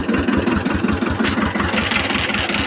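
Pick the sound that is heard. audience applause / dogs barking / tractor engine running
tractor engine running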